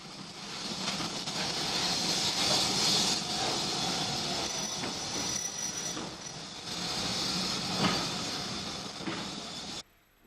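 QG Class 060 steam locomotive number 155 arrives at Navan with the 4 p.m. train from Oldcastle, a continuous rolling rumble with rhythmic wheel beats and faint squeals, fairly distant, ending abruptly.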